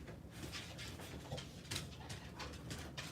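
A dog pants quickly and lets out soft whimpers indoors, close and fairly quiet, the breathy bursts repeating through the short moment.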